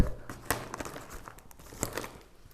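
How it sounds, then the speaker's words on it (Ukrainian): Plastic wrapping on a Polish army ration pack crinkles and tears in short irregular bursts with sharp crackles, close and fairly loud, no voices. "Зараз ми відкриваємо пакет."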